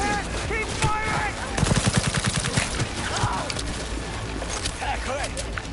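Rapid bursts of gunfire ring out during a firefight in Cyberpunk 2077, loud and close, with shouted voices mixed in over the shooting.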